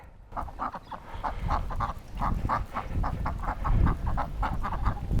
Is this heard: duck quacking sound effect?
yes